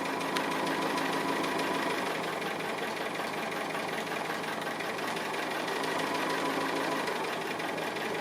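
A sewing machine stitches appliqué in a steady, fast, uniform whir and patter, running continuously at a moderate level with no talking.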